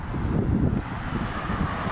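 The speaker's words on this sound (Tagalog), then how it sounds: "Ayan, ang lakas ng hangin." Strong gusts of wind rumble against the microphone in a low, steady roar with no talking.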